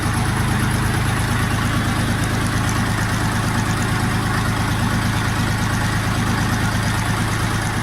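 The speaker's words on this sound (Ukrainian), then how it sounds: "Мотор прийомистий." A Dongfeng DF-244 G2 mini tractor's engine runs steadily with a loud, rapid low chugging throb and constant mechanical clatter, close by and unbroken throughout.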